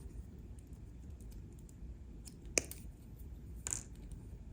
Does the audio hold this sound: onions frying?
no